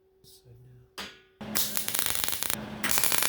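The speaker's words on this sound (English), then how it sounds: "I'm gonna weld it." Arc welding on a steel security camera tower, a loud crackling hiss that starts after brief quiet handling noises and runs steadily with a dense buzzing sputter, stopping briefly once before resuming.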